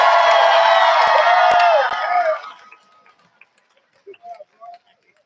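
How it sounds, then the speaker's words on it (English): Crowd at a No Kings protest at Rosa Parks Circle in Grand Rapids, Michigan, applauding and cheering loudly for about two seconds, then fading to near silence with a few faint scattered sounds. "Round of applause for our tech people."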